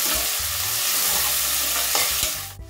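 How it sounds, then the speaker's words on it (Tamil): Chopped onions sautéing in a pan for a chicken gravy, a steady close sizzle with stirring and scraping of a spoon against the pan, ending abruptly. "இந்த வெங்காயம் நல்லா வதக்கிறதுக்கு கொஞ்சோண்டு உப்பு சேர்த்துக்குங்க."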